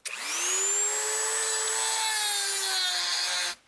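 A Dremel rotary tool cuts into metal while building a homemade propane burner for a forge, giving a loud, steady high-pitched whine that holds for about three and a half seconds before stopping abruptly.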